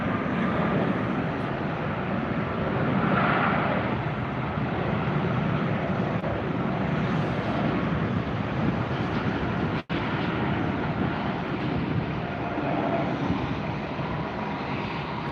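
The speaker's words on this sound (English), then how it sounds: "There's our Southwest arrival." A Southwest airliner arriving at Tampa airport makes a steady, loud, broadband jet roar that holds evenly throughout, with one brief dropout partway through and no talking.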